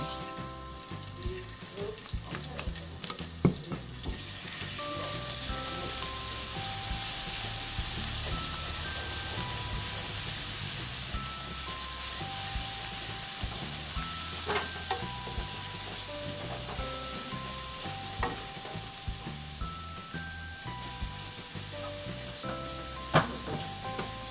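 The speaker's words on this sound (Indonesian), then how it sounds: "kita gongso sebentar bumbunya biar lebih harum ya tunggu panas dulu" Spice paste sautéing in hot oil for a fish-head and potato gulai, a continuous loud sizzle and hiss with scattered utensil clinks and stirring, heard alone without talk.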